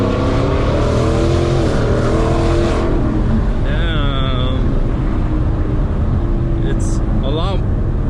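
A 2018 Ford Mustang GT Performance Package pulls hard from inside the cabin, its V8 drone rising and shifting down, loud and continuous, with a voice speaking briefly over the engine.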